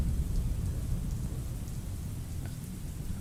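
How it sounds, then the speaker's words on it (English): Rain and thunder ambience fills a dark video game graveyard, a steady broadband downpour with a deep low rumble running throughout, loud and unbroken, with no voices. "thought I would make it a bit more atmospheric by having it raining and dark"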